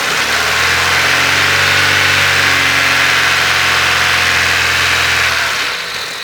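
A car engine idles and is held at raised revs while charging a very low dead battery, a loud, steady mid-pitched hum that holds evenly for several seconds before easing down at the end.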